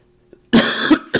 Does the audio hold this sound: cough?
yes